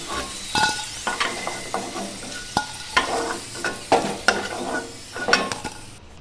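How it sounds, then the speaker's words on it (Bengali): Potatoes fried in hot oil are stirred with a metal utensil: a steady close sizzle runs under repeated sharp scrapes and clinks against the pan, with no voices. "আলুগুলোকে হালকা করে নেড়ে চেড়ে আমি লাল লাল করে ভেজে তুলে নেব।"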